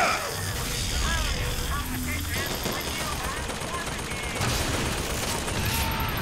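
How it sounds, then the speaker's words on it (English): Gunfire in the video game Bioshock Infinite, a continuous rattling fusillade of rapid shots with a helicopter-like mechanical drone underneath, loud and sustained across the whole stretch. "Who's shooting me?"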